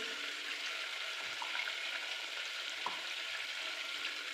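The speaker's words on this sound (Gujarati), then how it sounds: "હવે તેલ અને બટર ગરમ થઈ ગયું છે તો એમાં એડ કરીશું જીરું" Cumin seeds sizzle and crackle steadily in hot oil and butter in a pan for Surti bhaji pav, a soft continuous hiss with a few faint clinks and stirring knocks.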